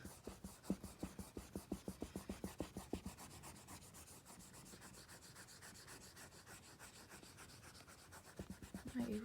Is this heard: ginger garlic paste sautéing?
no